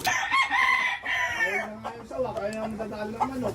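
A rooster crows close by, a long harmonic call rising and falling over a few seconds, with people talking in the background.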